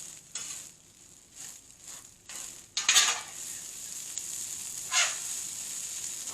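Shrimp being stirred into fried rice on a hot griddle, a steady sizzle with scattered scrapes and clinks of a utensil, a few louder bursts of sizzling as food is turned, no talking.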